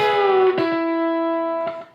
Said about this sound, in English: that kind of incorporates the bend we talked about, and a little bit of using that hybrid or that chicken picking.